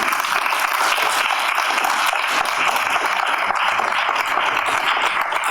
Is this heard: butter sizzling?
no